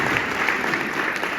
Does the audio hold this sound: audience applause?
yes